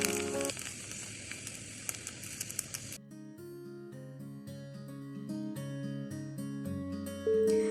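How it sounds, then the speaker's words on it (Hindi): A mutabbaq egg pocket fries in about a tablespoon of oil, crackling and sizzling loudly for a few seconds before giving way to gentle melodic music. "देखिए मैंने तकरीबन 1 टेबलस्पून इसमें ऑयल ऐड किया था। अब इसे 4 साइड से इक्वली हम इसको कुक कर लेंगे 1 बाय 1।"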